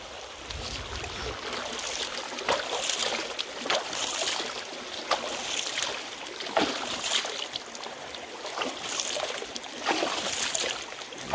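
Clean river water flowing through meanders, a steady close rush and trickle with uneven splashing bursts, no talk.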